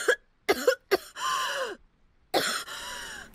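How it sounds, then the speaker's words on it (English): A character in the anime Revenger coughs and clears his throat in several harsh, hacking bursts, loud and close, with a longer rasping cough at the end. "Sounds like good old non-specific cough disease."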